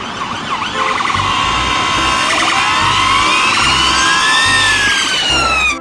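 A police car siren wails loud and close in rising and falling sweeps, continuous for the whole stretch, with a low pulsing rumble repeating underneath.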